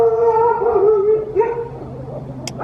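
Dogs in a backyard behind a fence reacting to a man peering over it, with sustained howl-like, whining vocal tones close by and a brief high yip near the end.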